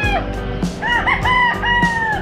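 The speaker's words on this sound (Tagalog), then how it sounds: "Ito yung mga alaga naming manok." Backyard farm chickens clucking and crowing up close, with a rooster's drawn-out crow over a busy flock, loud and continuous, in Taysan, Batangas.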